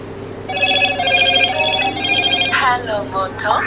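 A telephone rings with a steady electronic ringtone in a room, starting after a brief pause and continuing for a few seconds, before the call is picked up.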